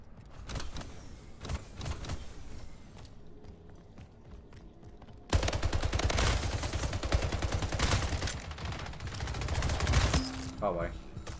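Gunfire in Splitgate during a Gun Game match, dense bursts of shots in the first stretch and then a louder, sustained run of rapid fire from the middle onward, with a voice talking faintly underneath.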